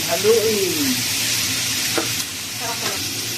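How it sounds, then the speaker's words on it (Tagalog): Pinakbet vegetables with tomatoes being stirred in a hot pan, a loud sizzle with scraping and clattering stirs, a voice briefly heard in the background. "Haluin natin"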